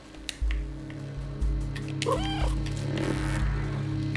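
An orange cat meows in the video game Stray, a couple of clear, close meows rising over steady ambient game music and background hum, with no talking.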